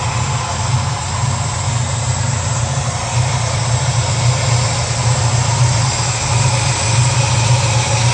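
A 1970 Chevrolet Camaro RS 350 V8 engine idles steadily with a low, even rumble after coming off fast idle, running continuously at a loud, close level with no talking.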